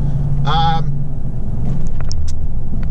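Toyota Tacoma V8 engine with an MBRP exhaust giving a deep, steady low rumble at idle, with a brief tonal whine near the start and faint clicks later over the continuous drone.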